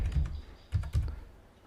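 A command is typed on a computer keyboard in an Ubuntu terminal, a few soft key clicks at the start, then two firmer taps close together, quiet and close with no talk.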